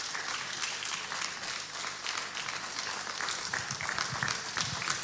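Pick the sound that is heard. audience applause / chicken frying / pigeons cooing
audience applause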